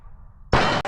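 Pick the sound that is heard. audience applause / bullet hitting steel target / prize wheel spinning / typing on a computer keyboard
bullet hitting steel target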